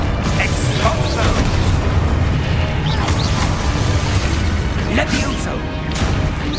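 An Exposo explosion spell goes off in Hogwarts Legacy amid dense battle noise, with booming blasts, crashes and clattering impacts layered over a continuous loud rumble.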